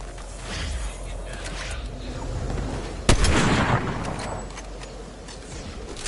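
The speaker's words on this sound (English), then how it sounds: "getting sniped now" A single sharp sniper shot cracks out at close range in the Fortnite battle royale game, rising out of a steady bed of in-game ambience and rumble and leaving a brief tail before the background settles again.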